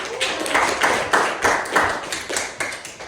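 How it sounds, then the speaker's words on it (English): A small audience claps for two real estate leaders, a loose patter of hand claps that swells in a few uneven bursts across the room, fairly close and with no voices over it. "Another round of applause for these two because they're amazing leaders"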